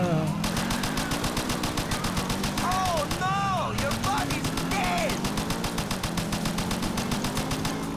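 Rapid sustained automatic gunfire in GTA IV, a dense, evenly spaced stream of shots running throughout, with music and a voice underneath.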